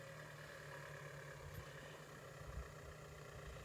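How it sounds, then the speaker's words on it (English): A tractor engine rumbles at a distance as it comes up a hill on a farm, a low steady drone that builds only slightly, with no talk over it. "So that's Amanda in her tractor."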